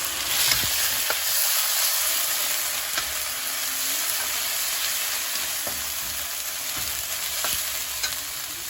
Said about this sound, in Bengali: এখন আমি দেবো আদা রসুন,